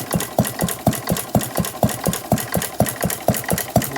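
A 114-year-old antique engine with a buzz-coil ignition powered by a 12-volt battery runs nearby, giving a steady, even chuffing beat of about four firing strokes per second with no voices.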